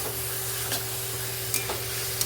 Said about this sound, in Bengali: চিকেনটা অ্যাড করে দিলাম দিয়ে এইবার মশলার সঙ্গে ভালোভাবে কষাবো আমি